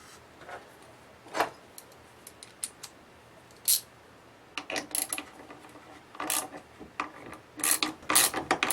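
A screw is driven to cut a thread into a new Stihl MS390 chainsaw housing, giving sparse faint clicks and scrapes that grow into quick irregular bursts of squeaky grinding, close and quiet.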